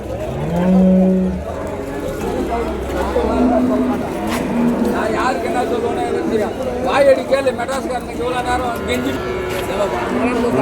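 Several cows moo loudly near the start, with more distant lowing later amid a busy crowd of chattering voices and general market bustle.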